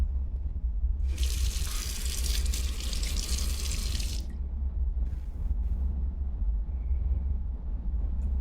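Shower water in a horror game gushes loudly for about three seconds as a hissing spray, then cuts off, leaving a low background hum with a few faint drips and small knocks.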